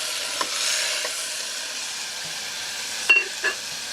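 Steady close sizzling hiss from crab and prawns cooking in a pot for fisherman soup, with a few brief knocks and clinks of stirring over the continuous fry.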